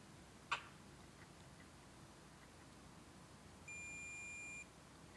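A multimeter gives a single steady continuity beep, a clean electronic tone lasting about a second, preceded by a sharp click from the probes in an otherwise quiet room.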